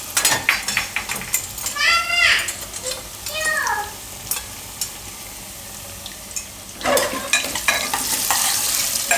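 Peeled purple yam pieces fry in oil as they are stirred, with steady sizzling and scraping of a spoon against the pan, close by, while a high chirping cry rises briefly over it early on.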